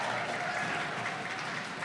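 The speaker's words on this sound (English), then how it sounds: "Give yourselves a round of applause." Puzzlers at a jigsaw competition clap together in a brief, even burst of applause from a moderate-sized crowd in a hall, steady throughout without any voices.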